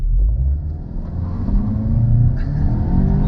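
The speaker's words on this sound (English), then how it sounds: "I can accelerate as fast as possible to the posted speed limit and maybe a little beyond" A 2021 VW GTI accelerates hard, its engine roaring loud and close in a steady, rising rumble with no talking.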